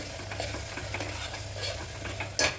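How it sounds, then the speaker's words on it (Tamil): Spices and chilli powder sauté in hot oil in a pan, giving a steady close sizzle. A spoon scrapes and stirs throughout, with a brief louder clink near the end. "எண்ணெயில் வதக்கிக்கலாம்."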